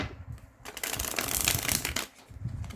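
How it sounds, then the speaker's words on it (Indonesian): Tarot cards are shuffled by hand, close to the microphone. Soft riffling builds into a dense, rustling burst of shuffling that lasts more than a second, then drops off before a short final flutter. "Di sini aku akan coba shuffle kartunya untuk Gemini."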